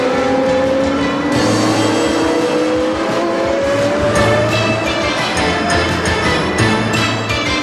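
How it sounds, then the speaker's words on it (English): IndyCar race cars roar off at the green flag start in Portland, a loud, continuous engine drone with rising pitch sweeps as the pack accelerates and passes close by. "When the green flag fell, Michael Andretti blew by Fittipaldi into the chicane and was off."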